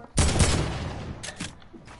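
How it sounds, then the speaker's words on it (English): Rapid burst of Fortnite gunfire, loud and close, fading into a trailing tail with a couple of softer follow-up shots. "I didn't hit any of my shots."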